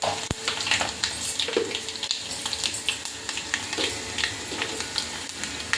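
Garlic, cumin, mustard seeds and dried red chillies sizzle and crackle in hot oil for a tomato rasam tempering, with steady frying noise and scattered pops and stirring clinks.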